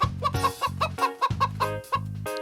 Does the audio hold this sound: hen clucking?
yes